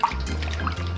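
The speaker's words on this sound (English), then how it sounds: "So I'll put some of this vinegar on it." Vinegar pours and trickles over raw goat meat outdoors, a soft close liquid splash with drips across about a second.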